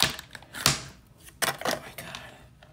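A heavy metal YSL lipstick tube is set down on a glass table, giving a few sharp clinks and taps close up, with quiet handling noise between them.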